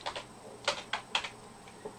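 A handful of quick keystrokes on a computer keyboard while entering a command during Python work, fairly faint, with a sparse cluster of separate taps and short pauses between them.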